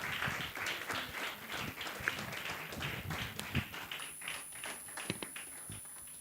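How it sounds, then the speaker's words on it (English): An audience at a live conference finale applauds a keynote speaker as he walks to the podium, a moderate, uneven patter of clapping with scattered sharper claps and no talking. "Keep clapping till he gets onto the podium, please."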